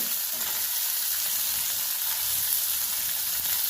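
Green peas and carrot pieces fry in a pan with ginger-garlic paste for a cabbage curry, giving a close, continuous hiss of sizzling at an even level with no speech.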